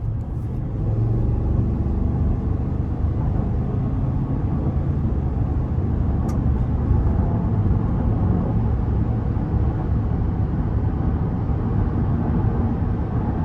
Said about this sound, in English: So I'm gonna give it a little bit of throttle getting on the interstate here.